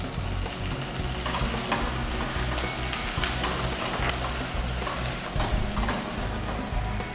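Tomato added to a pan for lady finger sambar, sizzling loudly and close while being stirred, with scraping clatter over a steady crackle, no talking.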